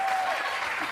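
A stage show audience claps together in a short, dense burst of applause, steady and fairly loud, with a faint voice briefly underneath.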